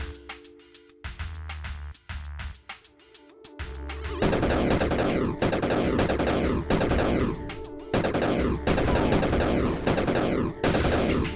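Automatic turret gunfire in a video game fires in long, loud, sustained bursts with brief gaps, heard alone and without voices.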